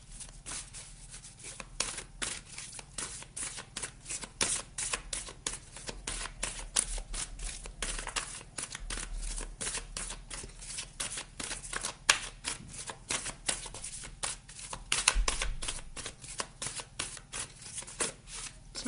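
Oracle cards shuffled by hand before one is drawn, a long run of quick, dense riffling flicks that continue steadily and fairly close with no talk over them.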